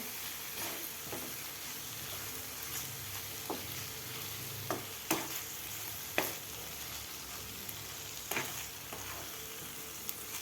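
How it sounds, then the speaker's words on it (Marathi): Paneer crumbles stirred into frying masala for paneer bhurji, a low steady sizzle broken by scattered spatula scrapes and taps, close and moderately quiet with no talk. "खालच्या मसाल्यामध्ये व्यवस्थित आपल्याला पनीर हे मिक्स करून घ्यायचं आहे।"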